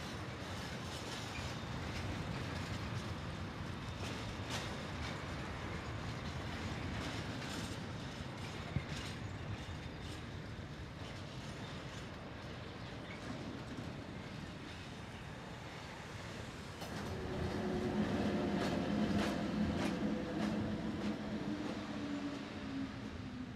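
Rail cars of a freight train being shunted by pushing rumble steadily, then louder metallic screeching and grinding rises as the train moves slowly at close range, near Bludenz on the Arlberg line.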